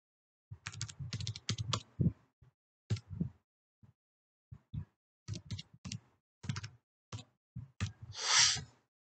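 Typing a registration number on a computer keyboard during an online registration form, quick bursts of close, crisp key clicks in irregular clusters with short pauses, ending in a longer rustling click.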